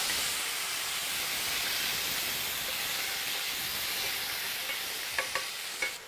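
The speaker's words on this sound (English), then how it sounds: "we're gonna throw in these tomatoes right away" Tomatoes hit a hot pan with garlic and chilies for a simple Italian pasta sauce, giving a loud, steady hiss and sizzle, with a few sharp spatula clicks near the end.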